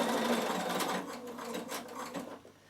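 Bernina sewing machine stitching wool appliqué on a needle case, a steady close mechanical whir that runs continuously and eases slightly quieter toward the end.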